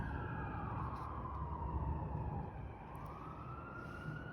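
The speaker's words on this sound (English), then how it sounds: "That's the sirens of heaven." Wailing emergency sirens rise and fall continuously over a low rumble of traffic, sounding somewhat distant and steady throughout.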